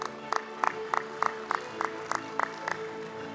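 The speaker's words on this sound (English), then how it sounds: "A huge round of applause for our chief guest" Applause greets the chief guest at a conference event: a steady, moderately loud patter of hands, with sharper distinct claps striking at a regular beat above a faint hum of the hall.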